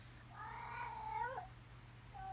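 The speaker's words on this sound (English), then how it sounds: "That's my cat Spot." A pet cat meows for treats indoors, giving one long drawn-out wavering meow and then the start of another, fairly close and alone over a low steady hum.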